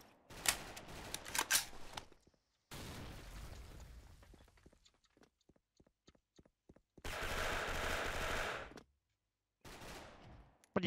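Gunfire in the online shooter Special Force: rapid automatic bursts, then a sparse run of single shots, then another long sustained burst, loud and close with brief silences between.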